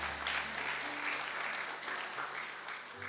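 A church congregation applauds and cheers together during a worship service, a dense, steady wash of clapping from a large crowd filling the room throughout.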